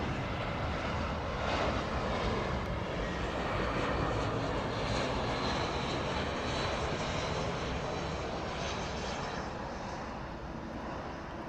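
A China Southern airliner arrives at Auckland Airport with a loud, sustained engine roar that stays strong and then eases slightly toward the end, heard without talk.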